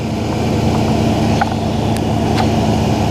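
2005 Ford Ranger engine running steadily, a close, loud low rumble with a constant hum and a few faint clicks, no talking.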